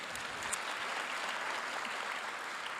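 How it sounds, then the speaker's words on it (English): Steady audience applause at an evening church program launch, a continuous wash of many people clapping at moderate distance, fairly soft and even throughout with no talk over it. "You can clap."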